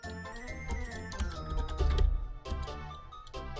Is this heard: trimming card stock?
no